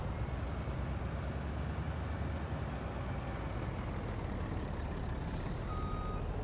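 A truck in the Farming Simulator video game reverses to hook up a trailer, its engine rumbling steadily and loudly throughout, with a thin electronic reversing beep sounding near the end.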